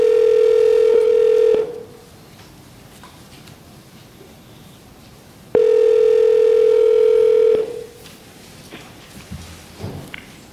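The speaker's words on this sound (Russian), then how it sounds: "Теперь мы постараемся позвонить профессору Амину и поделимся с ним новостями" A steady telephone dial tone sounds loudly for about a second and a half, stops, then returns for another two seconds while a call is placed to a prize laureate at a press conference, with quiet room noise between.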